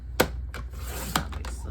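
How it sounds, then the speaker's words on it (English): Scrapbook title strips of paper being trimmed off a layout, heard as two crisp close-up cuts about a second apart, each followed by faint rustling in a quiet room. "by trimming off the titles at the bottom because I don't need that."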